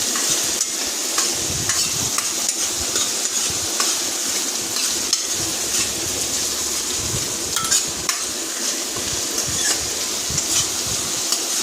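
Onion, coriander and garlic fry loudly in a home kitchen pan for a tomato and amaranth-leaf curry, a steady broadband sizzle broken by frequent scraping stirs of a spoon against the metal, close and continuous with no talk.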